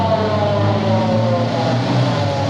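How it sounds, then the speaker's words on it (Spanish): A police car's siren wails steadily and loudly with a traffic or engine rumble underneath, running the whole time with no pauses. "¿Cómo se llama? ¡El carro policía!"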